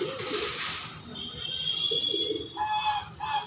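Pigeons and chickens in an old backyard garden, with soft cooing and clucking calls against a steady outdoor background, plus a thin high whistle-like tone and a few brief calls toward the end; no talking.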